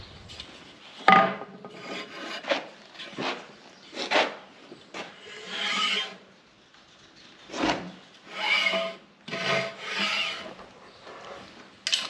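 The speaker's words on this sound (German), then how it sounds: "also ganz langsam sägen. Das ist jetzt hier die Devise." Slow hand sawing of a small poplar log at a sawmill, giving a series of separate rasping strokes with short pauses between them, close and fairly loud.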